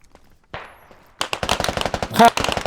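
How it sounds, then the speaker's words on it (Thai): An MG3 machine gun firing in the tactical shooter Squad, a rapid continuous burst of many rounds after a quiet lead-in with a faint thump, loud and rattling. "MG เอ็มจีสามยิงมาทางฝั่งขวา"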